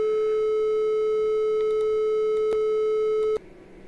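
A steady, loud 432 Hz sine tone with a few overtones holds unbroken for over three seconds, then cuts off abruptly into faint background hiss.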